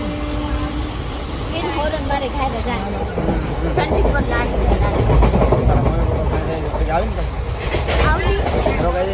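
A moving train rumbles steadily from inside a carriage, with rattling and clatter throughout and voices talking under the noise.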